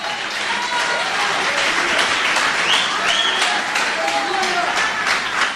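A church congregation breaks into sustained applause during a Portuguese-language service, dense steady clapping throughout with cheering voices mixed in.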